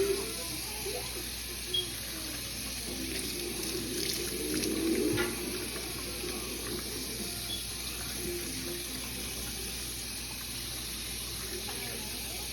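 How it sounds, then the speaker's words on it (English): Running tap water pours steadily into a sink while a whole raw turkey is rinsed under it, a constant wash of flowing water with a faint brief voice near the start. "I'm gonna wash my turkey off."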